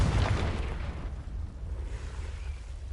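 A Confringo fire-blast spell explodes in the Hogwarts Legacy game, a loud booming burst that opens strongly and then rumbles and fades away over a few seconds, with no talking.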